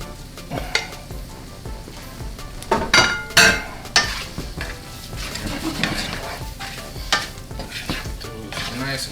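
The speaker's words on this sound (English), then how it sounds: "Add our potatoes in." New potatoes sizzle and fry in butter with toasted seasonings in a pan, with a utensil stirring and scraping against the metal, several clattering stirs over a continuous close sizzle.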